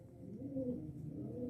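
A Sialkoti pigeon coos in low, soft, rolling calls, held close at hand and heard alone without any talk.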